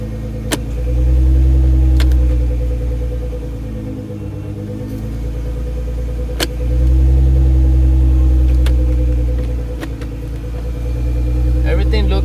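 A car engine idles steadily at close range as the automatic transmission is cycled through reverse, neutral and drive after a valve body install and fluid refill, the low rumble swelling and dipping with each shift and sharp clicks in between.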